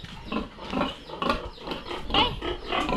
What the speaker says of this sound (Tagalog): Mga baboy na alaga ng kapatid or ate ng aking asawa.